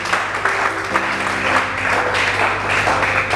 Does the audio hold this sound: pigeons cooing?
no